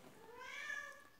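A female tabby cat gives a single clear, rising and falling meow while trying to catch a gecko, close and alone over faint room noise.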